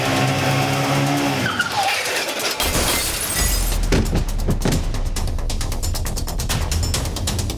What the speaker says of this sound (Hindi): विपिन की बाइक आउट ऑफ कंट्रोल होकर सुरेश जिंदल की कार से टकरा गई